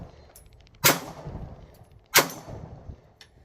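Two sharp, loud shots from a Kahr PM9 pistol fired at a target about 18 yards away at an outdoor range, spaced over a second apart, each with a short ringing decay, plus faint clicks in between.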